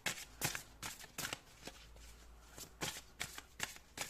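Fairy oracle cards being shuffled by hand, a quiet series of crisp riffling bursts repeating in an irregular rhythm, close and soft with no talking.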